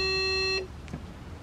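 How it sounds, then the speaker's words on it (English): A Tesla gives a single steady electronic beep while its button is held to calibrate, sounding loud and close for about half a second before cutting off into quiet room tone. "Till it beeps."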